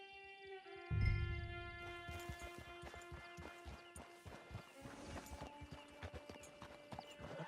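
Horse hooves clip-clop in a steady rhythm in the Western video game Red Dead Online, beginning after a heavy thud and continuing with music in the background.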